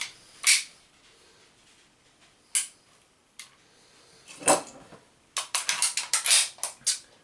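Several sharp mechanical clicks from an unloaded Ruger P95 pistol being dry-fired, its hammer snapping, first spaced out and then in a quick irregular cluster, close and crisp with no voices.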